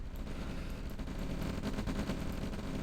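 Continuous rifleman gunfire from infantry in the real-time strategy game OpenRA, a dense steady crackle of rapid shots near an oil derrick and gun yard, running the whole time without speech.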